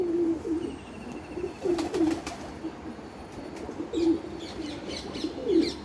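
Pet pigeons coo in soft, repeated low phrases, with a few light chirps and some wing flutter, heard fairly close in a quiet home loft setting with no talking.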